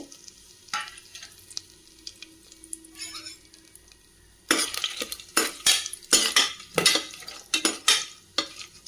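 Whole spices (cinnamon, cardamom and cloves) being stirred in a cooking pot for chicken biryani: a faint sizzle and a few light scrapes at first, then a run of sharp, loud metal-spoon scrapes and clatters against the pot, close up.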